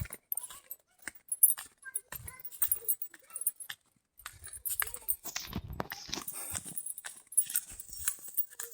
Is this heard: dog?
yes